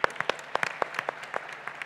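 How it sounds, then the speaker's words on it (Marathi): A small audience applauding for the girls, a short burst of scattered, uneven claps, fairly quiet and without speech. "मुलींसाठी एक टाळ्या वाजूया आपण."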